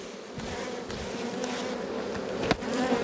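Steady droning buzz of many honeybees swarming close by around a hive frame during a spring hive inspection, continuous throughout with a couple of brief clicks or knocks near the end.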